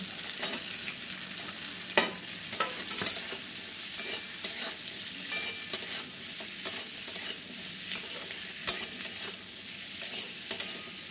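Onions and capsicum frying lightly in a pan, a steady soft sizzle with scattered scraping stir clicks from a spatula throughout, no voices.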